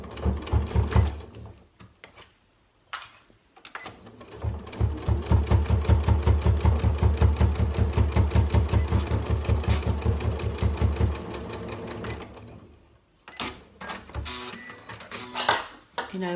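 A sewing machine stitches a bulky, batting-padded tote bag in a steady, rapid run of stitches that starts slowly, stops, and resumes in short bursts, with a person talking between the runs.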